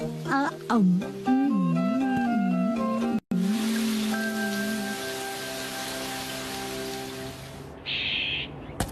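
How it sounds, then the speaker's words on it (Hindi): Rain falls in a Shinchan cartoon scene, a steady, even hiss that follows some brief speech and holds for several seconds before a short higher sound near the end. "अरे वाह, बारिश भी रुक गई।"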